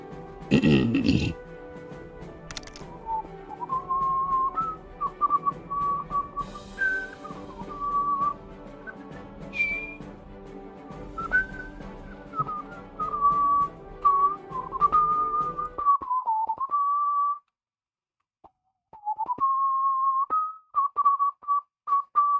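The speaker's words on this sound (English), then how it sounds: "I love whistling." A person whistles a wandering, melodic tune in a casual indoor setting, clear and close, with a short burst of noise at the start and a brief pause before the whistling resumes.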